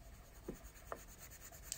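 A colored pencil stroking over paper, faint close scratches in a few separate strokes against quiet background.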